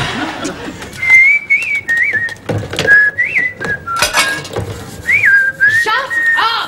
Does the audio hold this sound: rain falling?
no